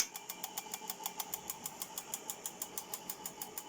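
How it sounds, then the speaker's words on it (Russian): A Webasto diesel heater's fuel pump ticks in a steady, even rhythm of sharp, faint clicks, about five per second, over a low hum from the heater's motor, with the heater wired up without its control board. "Насос."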